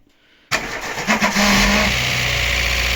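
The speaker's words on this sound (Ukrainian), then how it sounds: "двигун наш повністю зібраний. Зараз буде перший пуск." A Daewoo Lanos 1.5 engine cranks briefly on a weak starter, catches and roars to life after a head gasket replacement, revving up loudly before settling into a steady, close idle.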